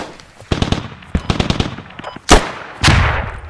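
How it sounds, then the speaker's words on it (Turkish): Machine gun fire from a BTR armored vehicle in Squad, loud and close, with rapid bursts of sharp shots in quick runs, then two heavier booming impacts. "Abi orada BTR var. BTR vuruyor."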